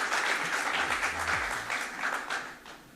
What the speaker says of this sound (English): Let's give him a very, very warm round of applause.